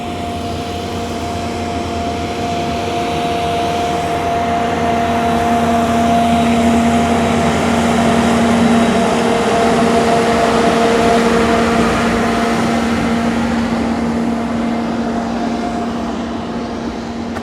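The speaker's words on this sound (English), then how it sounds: "I'm no expert, but that definitely doesn't sound like a steam engine. Yeah, diesel, I reckon." Diesel locomotive on the Snowdon Mountain Railway gives a loud, steady droning engine tone with a constant hum, holding evenly throughout with no voices.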